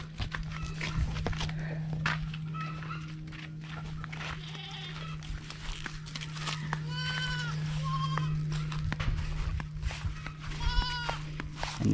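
A farm goat bleats several times, wavering cries rising over a steady low hum and outdoor rustling, with people talking nearby.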